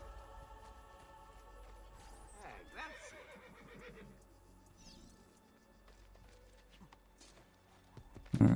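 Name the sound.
horse neighing and hooves in Assassin's Creed 2 video game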